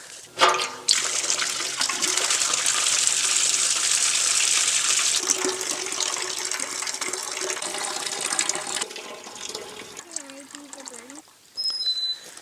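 Water runs steadily into a container being topped up to the brim while sealing a leak with cat litter, a broad continuous pour that stops near the end, with talk around it.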